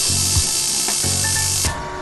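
A cordless drill bores into a leg of a daydance setup at Bielersee, whirring in two short bursts with a brief pause between them before it stops.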